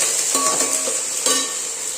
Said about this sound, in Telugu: దానికి ఆయిల్ పెట్టి ఫస్ట్ క్యారెట్ బీన్స్ వేసుకోవాలి.